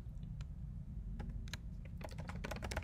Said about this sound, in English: And I might just type a 3-4 sentence.